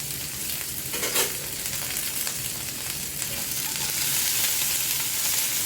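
Nuts lightly roasting in a pan for sheer khurma, making a steady, bright crackling sizzle with stirring scrapes that swell slightly toward the end, close and continuous.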